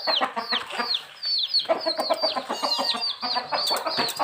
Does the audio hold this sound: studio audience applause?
no